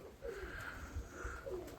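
Pigeons coo softly in low, rolling phrases, two coos in a row, faint and somewhat distant.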